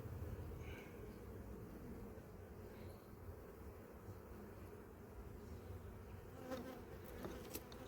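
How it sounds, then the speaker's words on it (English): Honeybees in a full hive box at an apiary in August, a steady low buzzing drone that fills the air without pause, soft but constant, with a few brief sharper sounds near the end. "So there's a good full box of bees there."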